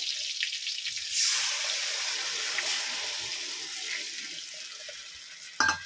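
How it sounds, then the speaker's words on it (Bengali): Water poured into a pan holding a fried mustard-poppy seed paste for hilsa fish curry, a steady hiss and splash that starts abruptly and continues for several seconds, ending with a brief clatter. "আমি জলটা দিয়ে দিচ্ছি, সেই জলটা।"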